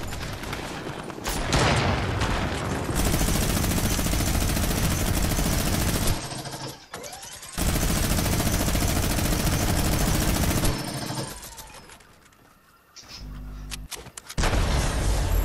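Rapid sustained bursts of automatic gunfire in the Fortnite video game, loud and dense for long stretches, broken by brief pauses and a few heavy booms near the end.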